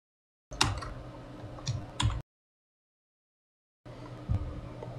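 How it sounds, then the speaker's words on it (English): Someone types a command on a computer keyboard, producing a quick run of close, crisp key clicks, then a stretch of silence, then a second short burst of tapping. "I'm gonna type it right now."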